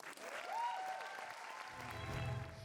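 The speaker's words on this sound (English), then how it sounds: "give her a huge round of applause" An audience applauds at an autism talent show, a steady patter of clapping with a sung melody running over it.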